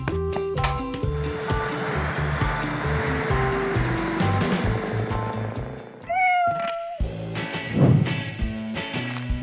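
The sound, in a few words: cat meowing, stuck in a tree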